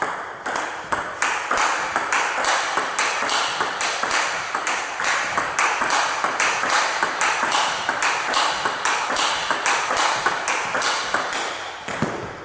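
A table tennis ball is struck again and again with XIOM Vega Europe rubber in a quick, steady rally of sharp, clicky pings at close range.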